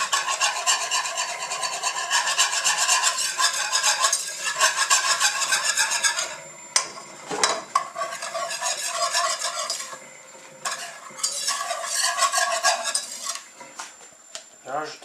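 Flour added bit by bit and stirred into a mixture with a utensil in a bowl, close repeated scraping and rasping strokes, pausing briefly before resuming.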